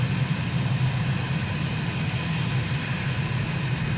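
Fixed-wing aircraft engine droning steadily in flight over a town in the UAE, a continuous loud propeller-like hum with no breaks and no voices.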